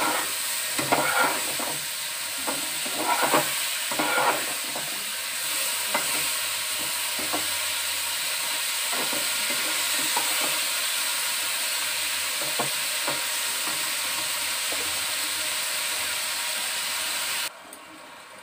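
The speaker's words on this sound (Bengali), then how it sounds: "ফুলকপিগুলো ভেজে নিয়ে তুলে নিলাম" Cauliflower fries in hot oil in a pan while being stirred, with a steady close sizzle and hiss; scraping stir strokes click and clatter in bursts early on, then the frying carries on alone before ending abruptly.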